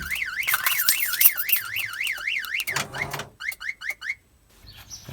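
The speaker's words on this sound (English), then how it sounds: "the alarm's going off" A HAWK HA-240 lite aftermarket car alarm blares loudly, cycling through a rapid warbling siren, then a few sharp chirping bursts before cutting off, with no voices.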